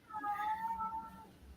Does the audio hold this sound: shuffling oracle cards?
no